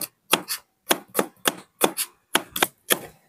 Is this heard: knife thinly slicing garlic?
yes